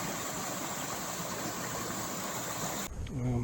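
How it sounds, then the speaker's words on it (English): A brook crossing a hot, humid hiking trail near a road gives a steady, broadband rushing flow that fills most of the stretch, then drops away near the end as a low hum and faint talk-like sounds take over. "you come to this brook"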